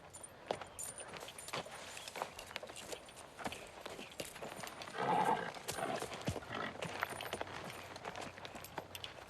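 A horse clops its hooves on hard ground in an irregular rhythm and gives a brief whinny midway, moderately faint amid background noise and rustling.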